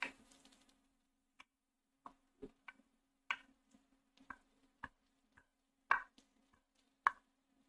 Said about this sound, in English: Okay, so I'm gonna roughly chop this.